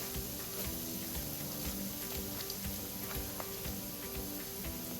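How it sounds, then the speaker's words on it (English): Onions added to a pan of cooked garlic for a seafood dumpling bouillon sizzle steadily, a soft, continuous crackling hiss with faint ticks from stirring, with no talking. "now I'm going to add my onions"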